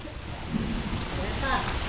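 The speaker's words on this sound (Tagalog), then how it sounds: "ayan lakas ng ulan" Heavy rain pours down on a roadside lechon shop in bad weather, a steady dense hiss filling the whole clip with brief voices underneath.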